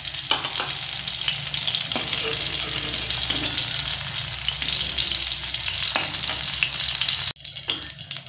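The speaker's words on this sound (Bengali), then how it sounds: "যেহেতু সব সবজির মধ্যে একটু লবণ দিয়ে ভাজা হচ্ছে" Vegetables sizzling and frying in hot oil for Bengali sukto, a steady close crackle with faint stirring that drops out briefly near the end.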